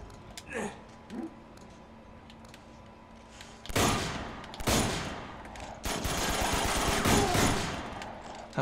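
Rapid automatic gunfire from Uncharted 2 crackles in long, dense bursts, preceded by a few isolated shots and thuds, close and loud over game ambience.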